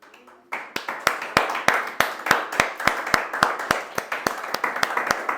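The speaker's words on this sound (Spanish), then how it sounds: "¿Podemos darle una ofrenda de aplausos al Señor?" A church congregation applauds together in steady, rhythmic clapping that starts abruptly after a brief quiet moment and continues loud and even throughout, with no speech over it.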